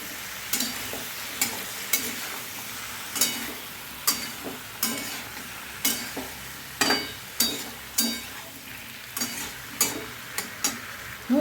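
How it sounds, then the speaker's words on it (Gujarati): A raw banana vegetable curry (kaacha keda nu shaak) is stirred in a pan, a spoon scraping and tapping the metal in a steady rhythm of repeated strokes over a faint sizzle. "બધું જ શાકને આપણે સરસ રીતે હલાવી લઈશું."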